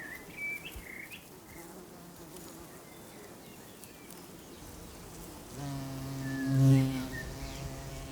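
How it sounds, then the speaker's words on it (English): A bumblebee hoverfly buzzing among alpine vegetation, faint at first amid a quiet outdoor background, then a louder droning hum rising near the microphone for a couple of seconds before fading. "This new arrival looks like a bumblebee, but it's a bumblebee hoverfly."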